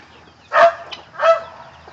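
Hens cluck nearby in two short, throaty bursts separated by a brief pause, over a low steady background hum.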